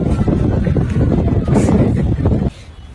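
Strong wind buffets the microphone outdoors in a loud, rumbling roar that gusts unevenly for over two seconds and then suddenly drops to a quieter hiss.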